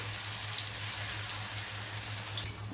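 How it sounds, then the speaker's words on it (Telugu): Onion pakodi batter dropped in small lumps into hot oil, frying with a steady, dense crackle and sizzle that holds evenly throughout, alone with no talk. "నూనె వేడైన వలే ఇందులో చిన్న చిన్న ముద్దలు వేసుకోవాలి ఇది ఉల్లిగడ్డ పకోడీ అంటారు"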